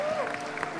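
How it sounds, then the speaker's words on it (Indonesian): Audience applause at a church talk, soft clapping from a crowd with a voice speaking over it and a brief sliding tone near the start. "tepuk tangan dulu dong saudara"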